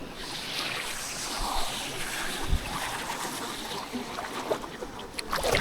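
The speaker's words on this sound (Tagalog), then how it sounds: "Laki ng alon." Big ocean waves wash and churn around a small boat at sea, a steady broad rush of water and wind noise with occasional slaps against the hull, no voices.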